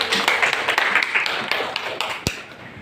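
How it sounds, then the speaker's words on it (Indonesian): Brief burst of classroom applause, scattered claps from a group of students, close and fairly loud, fading after a couple of seconds with a single sharp knock near the end. "Tepuk tangan buat semuanya."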